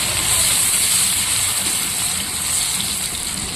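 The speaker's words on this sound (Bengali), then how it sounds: "পেঁয়াজটা একটু ভেজে নেবো" Chopped onions frying in oil in a kadai with whole cumin, garam masala and bay leaf, giving a loud, continuous sizzle and spatter up close with no pause.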